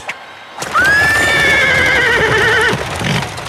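Horses neigh at the start of a chariot race, one long loud whinny ringing close after a brief clatter of hooves, with no talking.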